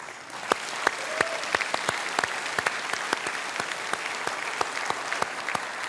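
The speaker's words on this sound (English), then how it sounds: "Please give yourselves a round of applause." A studio audience at Penrith Panthers applauds itself during a Q&A television broadcast. Sustained crowd clapping is heard alone, with distinct sharp individual claps punctuating the even wash of applause.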